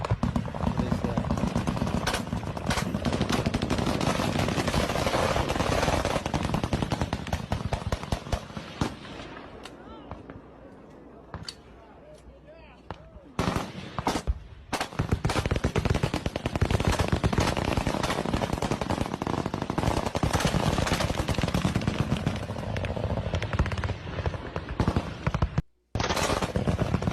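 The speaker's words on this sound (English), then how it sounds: "Looks like a gunfight. They're shooting at something." Gunfire in a gunfight, dense rapid bursts of cracking shots that continue almost nonstop with a brief lull midway, loud and sharp, mixed with some voices.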